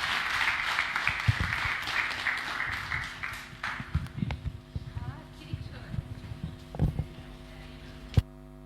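An audience claps at a Malaysian political gathering to welcome speaker Nurul Izzah, with a few seconds of steady applause that breaks up into scattered claps and thumps under brief talk and handling noise.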